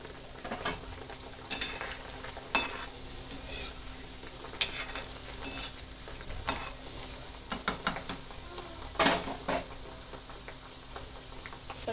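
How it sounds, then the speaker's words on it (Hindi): Puri frying in a pan of hot oil, a soft steady sizzle broken by loud bursts of bubbling and scattered clinks and scrapes of a utensil against the pan. "अब हम पूड़ी सेक रहे हैं, आप देख सकते हैं।"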